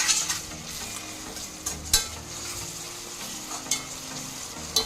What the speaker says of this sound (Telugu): ఇది కూడా కొంచెం పచ్చివాసన పోయేంత వరకు ఫ్రై చేసుకోవాలి